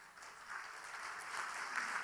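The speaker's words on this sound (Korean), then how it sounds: "박수 한번 하세요." A church congregation at a Sunday worship service breaks into applause, a soft, distant wash of clapping that swells slightly and holds steady for a couple of seconds.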